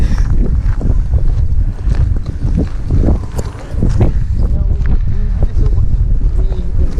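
Strong wind buffets the microphone during a motorcycle ride on a Yamaha R15 v3, a steady loud rushing roar with only a short dip midway.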